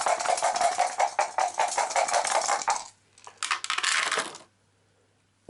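Three dice rolled for a Darkest Night board game: a busy clattering rattle on a table, then a short second burst of tumbling clicks before falling silent.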